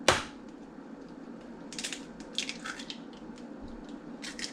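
Eggs and milk whisked together in a bowl for crepe batter, heard as soft, irregular clicking and squishing strokes that come in short bursts over a quiet background.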